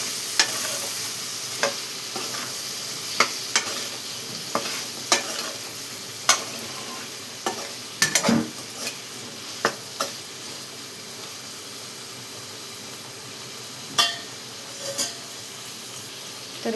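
Eggplant and potato curry being stirred in a frying pan, a constant sizzle under repeated sharp scrapes and clicks of the spoon against the pan at irregular intervals, close and moderately loud, with no talking.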